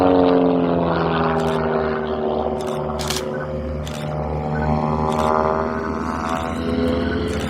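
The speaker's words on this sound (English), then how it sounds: "We've got some quite nice aeroplanes coming along here." Propeller aeroplanes pass by at an air show, their steady droning engines rising and shifting in pitch over continuous loud noise, with no talking.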